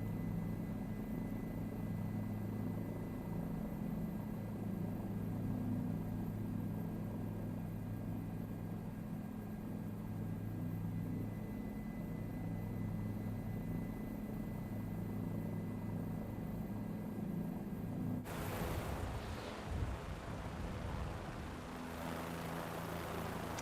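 A helicopter in Microsoft Flight Simulator 2024 on PlayStation 5 Pro gives a steady, droning rotor and engine hum at an even level, with a shift in tone near the end.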